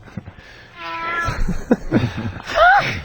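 A cat lets out a short, clear meow near the end, close and fairly loud, after a brief stretch of murmured talk.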